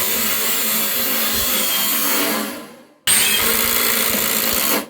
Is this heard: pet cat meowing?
no